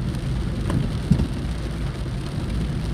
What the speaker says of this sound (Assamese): আজি লগে লগে বৰষুণো দিয়ে দিছে ৰাতিপুৱা